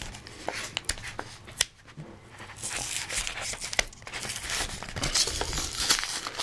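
Crinkling and tearing of a plastic-and-cardboard Pokémon Black and White card blister pack as someone struggles to pry it open, with close, irregular crackles and rips that build louder toward the end.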